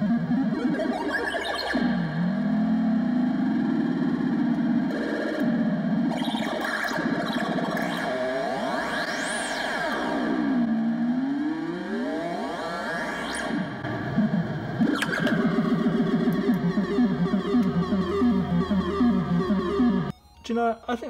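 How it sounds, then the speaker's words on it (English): A modular synth oscillator is modulated by control voltage from an optical waveform scanner, producing sweeping, warbling pitch glides that rise and fall continuously over a droning tone, loud and close for about twenty seconds before cutting off. "If you plug a patch cable into here and send that to the CV input of another oscillator,"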